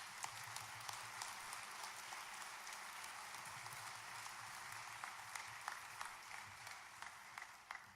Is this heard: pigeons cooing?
no